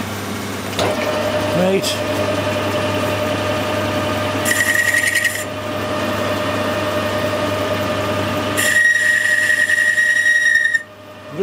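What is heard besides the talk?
metal lathe boring tool squealing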